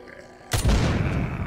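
A sudden loud video game explosion in The Walking Zombie 2 bursts in, followed by a rumbling, crackling roar that lingers for about a second.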